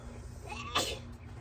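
A single short sneeze bursts out once against a quiet room hum, faint and brief.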